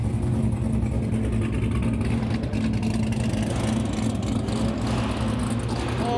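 A loud Shelby GT350 engine rumbles close by with a low, choppy idle that stays steady and heavy throughout, with no speech over it.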